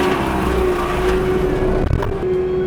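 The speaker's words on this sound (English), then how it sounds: "now I'm going straight down with the mulcher" A skid steer running an industrial mulcher head as it cuts straight down through an ash tree, giving a loud, steady engine and rotor drone with a brief rough burst of cutting near the end, with no voices.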